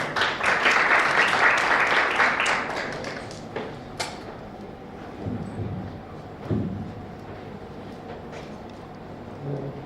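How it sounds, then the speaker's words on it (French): Applause from a theatre audience at a live science-presentation contest, dense, loud clapping for the first few seconds, then fading into scattered claps and thuds. "Sous vos applaudissements et encouragements, s'il vous plaît"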